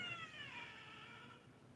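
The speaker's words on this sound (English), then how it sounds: "Kitty, no fighting." A cat meows once, a drawn-out, falling cry that starts bright and fades, faint and somewhat distant over quiet background hiss.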